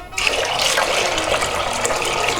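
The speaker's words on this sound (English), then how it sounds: "So we need to add water, plenty of water, throw it on the stovetop" Water pours steadily from a tap into a pot of dried chickpeas on the stovetop, a continuous splashing fill heard up close with no talking.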